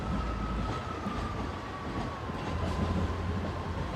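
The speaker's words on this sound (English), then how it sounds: "The 1206 Northern Train service from Leeds to Nottingham" Northern train service from Leeds to Nottingham running at Sheffield station, a steady loud rumble with a sustained wheel squeal and rolling rail noise, close and continuous.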